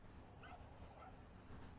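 Dogs at a dog park yip and whimper in short bursts, with a remote-controlled car running among them, set against a steady outdoor background.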